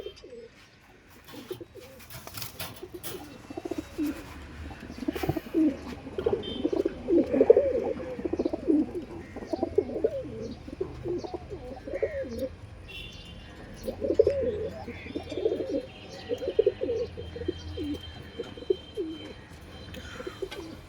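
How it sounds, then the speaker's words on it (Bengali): A golden pigeon coos in soft, repeated low throaty phrases at close range, with quiet background noise between the calls. "আমার এই গোল্ডেন কবুতরটি এটা আমার খুব পছন্দের একটি মায়া কবুতর"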